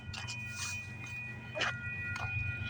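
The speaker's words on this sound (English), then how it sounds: "we got a CPKC train coming down the line" A southbound CPKC freight train rolls down the line at Islington Avenue in the early morning, a steady low rumble with a few brief higher-pitched squeaks and clanks. The sound is moderately loud and continuous.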